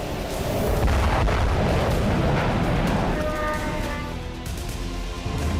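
Iranian missile strikes in Israel roll out as a dense, heavy roar of blasts and rumbling booms, loud throughout and easing slightly toward the end.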